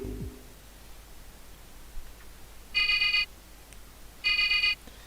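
A telephone rings in the video game Persona 2. Two short electronic ring bursts come about a second and a half apart over a faint hiss, with a small click beforehand.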